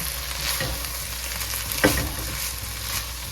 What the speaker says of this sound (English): I'm just going to saute this for a bit.